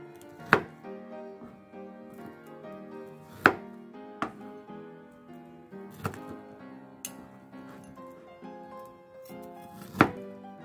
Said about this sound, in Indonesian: baksonya ini 7 buah bakso saya potong jadikan dua saja